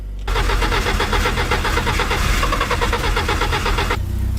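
A worn-out car engine with a flat battery, jump-started from a second car with its engine running, cranks in a fast steady churning rhythm for nearly four seconds, loud and close, then stops without catching.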